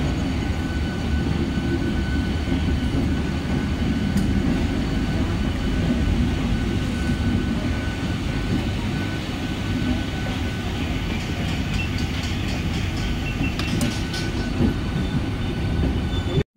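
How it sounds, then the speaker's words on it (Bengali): Medinipur local train pulling out of Howrah station, heard from on board as a loud, steady rumble of wheels and carriages with occasional clanks and faint squeals, no talking. "এই হাওড়া স্টেশন থেকে ট্রেন বেরিয়ে যাচ্ছে।"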